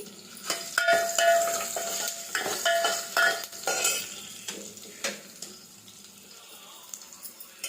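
Garlic tempering sizzles steadily in a pan over a medium flame for drumstick dal, with stirring scrapes and clinks rising over the frying hiss; no one speaks.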